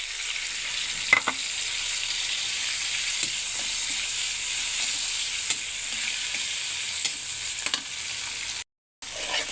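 Tomatoes sizzling in a pan in a home kitchen, a continuous soft frying hiss broken by a few scraping stirs and clicks, with a brief dropout near the end and no talking.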